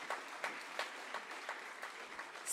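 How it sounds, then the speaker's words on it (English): Faint, distant applause from an audience at a school foundation day celebration, a steady patter of clapping with soft rhythmic accents, with no voices over it. "Can we have a huge round of applause for such an amazing personality?"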